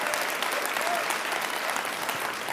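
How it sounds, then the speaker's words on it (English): Audience at a conference session giving a round of applause, a steady, fairly distant wash of many hands clapping without pause. "Give a round of applause"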